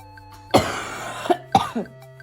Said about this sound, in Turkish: Öksür. Öksür.